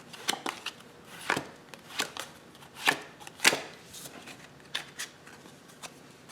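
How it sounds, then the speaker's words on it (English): Playing cards dealt one at a time in a card trick, with the top card shifted to the back of the pile between deals, giving quiet, irregular papery snaps and slides spaced about half a second apart. "take the first card, put it to the back, and then take the new first card and put it down"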